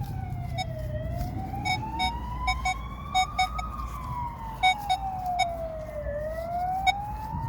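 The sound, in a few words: ambulance siren passing on road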